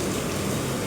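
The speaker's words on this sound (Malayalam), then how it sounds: "പുറത്ത് നല്ല മഴയാണ്." Heavy rain falling outdoors, a steady dense hiss of drops with no break across the short stretch, loud and close.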